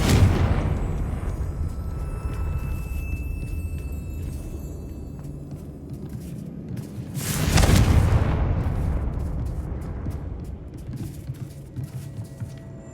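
The Confringo fire spell from Hogwarts Legacy goes off inside a mine with a deep booming explosion, first a rumbling blast at the start, then a louder roaring burst midway that fades into a low rumble.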